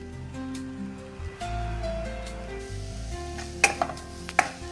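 Egg and other ingredients stirred together in a hot frying pan, a soft sizzle with shifting scraping strokes and a few sharp clinks of utensil on pan near the end, close and without speech.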